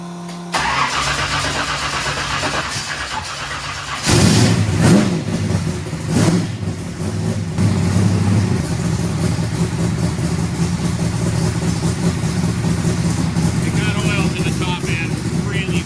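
A big-block car engine with new Isky lifters and carburetors cranks, catches with a loud burst and a few revs, then settles into a steady, rumbling idle close by.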